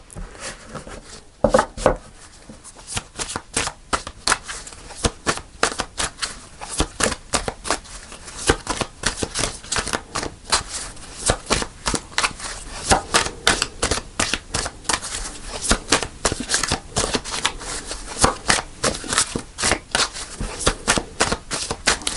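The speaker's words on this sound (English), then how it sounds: "Let's just shuffle one more time." Tarot cards shuffled by hand in a steady run of close, crisp riffling and slapping flicks, with no talk over them.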